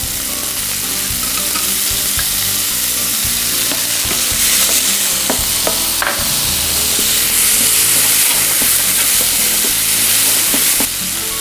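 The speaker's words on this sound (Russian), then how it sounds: "Добавляем немного сливочного масла. Масло должно полностью растаять на сковородке. Добавляем бруснику." Lingonberries and sugar cook in melted butter in a frying pan, giving a steady loud sizzle broken by occasional clicks and scrapes of stirring, with no voices.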